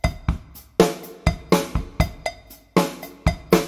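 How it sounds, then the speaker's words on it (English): A cowbell sound triggered from a Yamaha EAD10 drum pad rings out in about a dozen sharp, bright strikes in an uneven rhythm, each decaying quickly, loud and close with nothing else playing. "Now, here's the cowbell on the pad."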